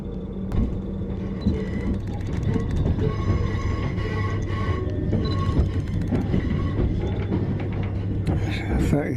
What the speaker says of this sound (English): That's the London Overground.